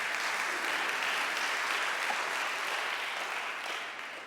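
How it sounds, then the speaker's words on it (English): An audience at a talk on Christian nationalism gives a round of applause, a dense, sustained clapping crowd heard alone, steady and full before easing slightly toward the end. "We give her a round of applause for that."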